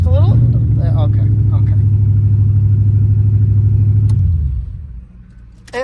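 Dodge Dakota race truck engine idling loudly and steadily with a deep rumble for about four seconds, then cutting off, with voices talking over the top.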